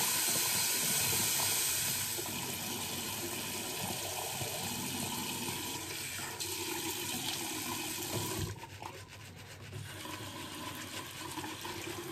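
Hot water running from a tap while preparing for a shave, a steady close hiss of flowing water that shifts slightly in tone near the end.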